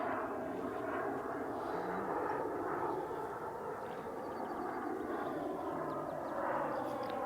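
Krill Ares RC jet, a twin-engine model on its maiden flight with gear and flaps retracted at about half throttle, gives a steady, continuous turbine roar and whoosh throughout, loud and unbroken with no talk.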